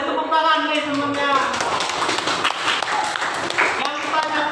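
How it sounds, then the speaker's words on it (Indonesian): Applause from a small group in a classroom, scattered claps mixed with tapping and thumps, heard under a person talking. "Beri tepuk tangan nih semuanya."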